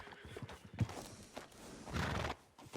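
A small Morgan horse in the video game Red Dead Redemption 2 clip-clops at a steady rhythm, its hooves soft and fairly faint, with a whinny mixed in.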